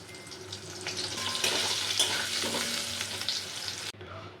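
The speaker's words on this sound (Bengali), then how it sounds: "আলুগুলো ভেজে নেব।" Diced potatoes fry in oil with a steady close hiss and crackle, stirred now and then, before the sizzle cuts off abruptly near the end, leaving quiet.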